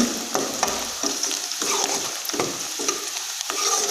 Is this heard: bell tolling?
no